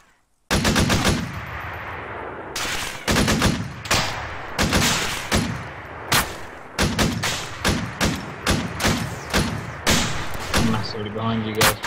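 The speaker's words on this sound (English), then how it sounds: "Enemy's back on the MG." Machine gun fire in a multiplayer war video game: repeated loud, close bursts of rapid automatic shots, some long and some short, with an enemy gunner firing from an emplacement and a voice speaking between bursts.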